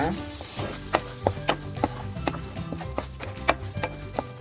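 Spinach paste sizzles in a hot pan for palak paneer while a spoon stirs it, sharp regular scrapes and clinks over a constant frying hiss, close and fairly loud.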